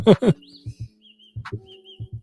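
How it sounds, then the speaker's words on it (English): Small birds tweet in short, high repeated chirps through a song, intermittent and fairly faint, while low voiced bursts of speech or singing come and go alongside. "there's birds in this song."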